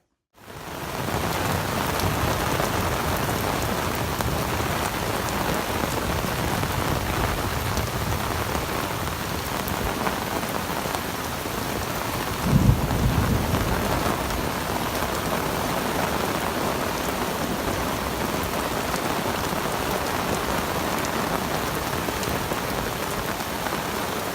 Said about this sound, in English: Wouldn't be a trip unless we got some rain.